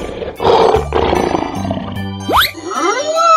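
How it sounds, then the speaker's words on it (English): A lion in a children's animal basketball game lets out a loud, rough roar, then a couple of shorter growls over light background music. "Lion."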